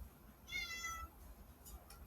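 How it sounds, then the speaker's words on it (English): A cat gives one clear, drawn-out meow close by, followed by a couple of faint shorter chirps in an otherwise quiet indoor room. "I have a cat talking over here."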